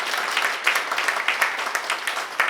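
Applause for a pastor at a church New Year scripture meditation seminar, a steady wash of many hands clapping at close range with no talk.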